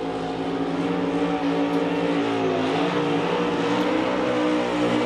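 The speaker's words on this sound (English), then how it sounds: "that's an awesome burnout" NASCAR Cup Series car doing a burnout after a win at Martinsville: a loud, sustained, raspy engine roar at high revs holding a steady pitch, with slight wavering and no talk over it.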